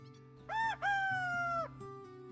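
A rooster gives one clear cock-a-doodle-doo, a short opening note followed by a long sustained call, fairly close over a quiet background with soft music.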